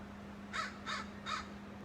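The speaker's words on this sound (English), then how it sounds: "And, oh, look at the crow." A young crow outdoors gives three short, evenly spaced caws, fairly close but not loud, over a steady low hum.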